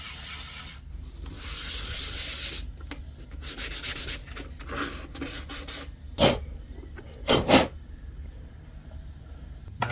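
Two wooden violin bridges are rubbed on sandpaper together in a workshop, producing bursts of gritty rasping strokes, continuous at first, then shorter separate scrapes with quiet gaps.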